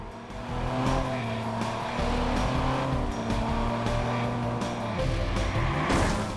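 Car engine in the Watch Dogs video game droning steadily, with pitch rising and falling as the car accelerates and shifts, plus some tire noise. The sound is continuous, loud and close, with no talking.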